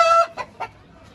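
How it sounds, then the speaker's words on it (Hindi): An aseel rooster gives one sharp squawk followed by two short clucks while being held and handled, close up and loud. "ये पकड़े, ये मुर्गा खूबसूरत है"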